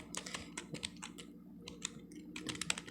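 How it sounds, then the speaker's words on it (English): Rapid, irregular clicking of keys on a USB keyboard hooked up to a cellphone, close and quiet, with no voices. "You can see that I am typing."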